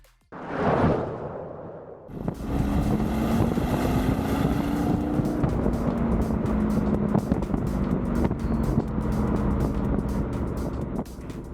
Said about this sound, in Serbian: kad ste poslednji put čuli ovakav automobilski bariton, čisto mehanički zvuk